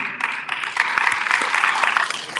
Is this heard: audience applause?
yes